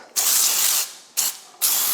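Aerosol can of flour-added cooking spray sprayed into a springform pan, three close hissing bursts, one long and two short, with brief pauses between.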